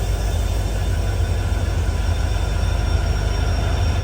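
A passenger express train hauled by twin WDP-4D diesel locomotives runs steadily on the Silchar to Agartala line near the Bangladesh border, giving a loud continuous rumble with rail noise and no pauses.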